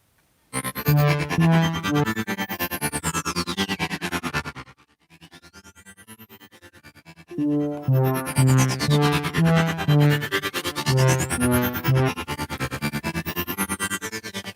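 A synthesizer played through a filter plugin on an iPad plays a repeating pattern of notes while a resonant sweep rises and falls, dropping quieter briefly in the middle before resuming.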